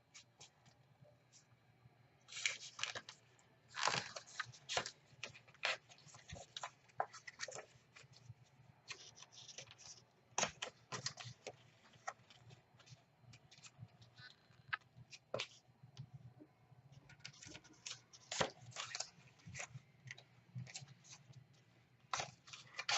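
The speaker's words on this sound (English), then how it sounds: "So pretty much just take it and fold it along these dotted lines" Paper high heel template being folded along dotted lines by hand, with scattered crisp creasing, rustling and sliding bursts through the stretch over a faint background hum, no talking.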